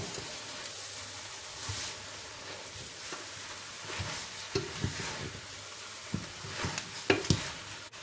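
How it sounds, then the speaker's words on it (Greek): Lamb sizzling in a pot as it gets stirred, with a steady hiss throughout and scattered scraping and clinking knocks that grow more frequent toward the end. "Ανακατεύουμε."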